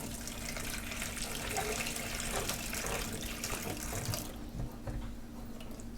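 Water runs steadily from a tap as a plumber tests the supply after work in a flat, a continuous close hiss and splash that eases slightly near the end.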